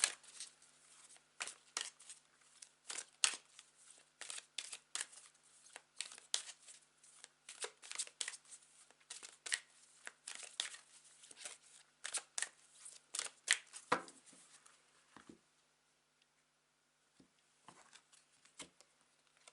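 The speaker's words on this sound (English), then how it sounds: "So let me grab my oracle deck." An oracle card deck being shuffled: a rapid series of crisp riffling and snapping card clicks in bursts, fairly close and clear, with no voices, tapering to a few scattered taps near the end.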